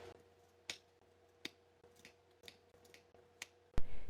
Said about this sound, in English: take your scissors and make little snips into this curve